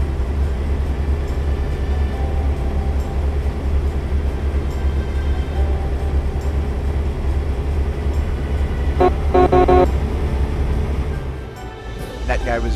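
A few short truck horn honks ring out near the end of the clip over the steady rumble of a moving truck cab on the road.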